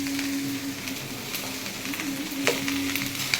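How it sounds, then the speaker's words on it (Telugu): Sweet potato and cabbage sizzle steadily in a hot pan, a continuous close frying hiss with occasional scrapes and clinks of stirring, and no talking. "ఇలా సిమ్లో, హైలో పెట్టి ఒకసారి ఫ్రై చేసి సిమ్లో పెట్టి దగ్గరికి ఉడికించాడు"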